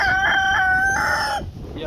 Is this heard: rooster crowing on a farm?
yes